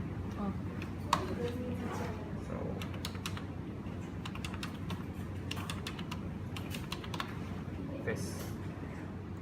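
Keys on a computer keyboard tap out a credit card number at a hotel front desk, sparse quick clicks scattered over a steady room hum.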